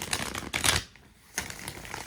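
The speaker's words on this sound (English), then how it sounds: "I need to give a little shuffle real quick." A deck of tarot cards is shuffled up close in quick riffling bursts, with a brief pause midway before the crisp flutter of cards resumes, and no talking over it.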